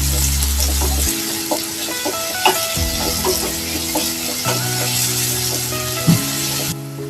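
Onions sautéing with salt in a pan, a steady sizzle and fry with occasional scrapes and knocks of stirring, close and continuous with no talk.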